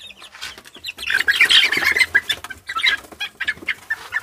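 Chickens cluck and squawk close by, a busy run of short, uneven calls that rise and fall, with no talking.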